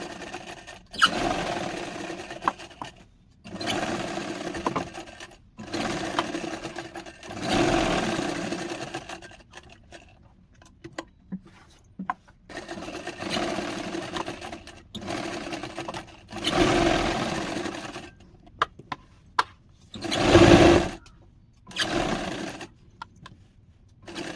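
A sewing machine stitches around a round blouse neckline in several sustained runs of fast, whirring chatter, close and fairly loud, with brief pauses and small handling clicks between runs.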